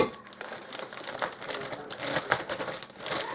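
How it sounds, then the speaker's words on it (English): A plastic bag crinkles and rustles steadily as about three cups of homemade breadcrumbs are poured into it, a close, busy crackling that swells and dips with no talking. "And I'm going to dump those in my plastic bag."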